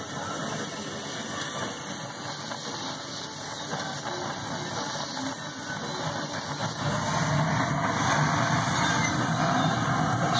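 A waste oil burner stove with a siphon nozzle runs with a steady, even roar and a broadband rushing hum that holds constant throughout, with no talk.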